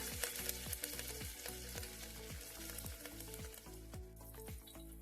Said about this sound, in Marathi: आता मी ह्यामध्ये घालणार आहे 4 हिरव्या मिरच्यांचे तुकडे आणि 5 ते 6 कडीलिंबाची पानं.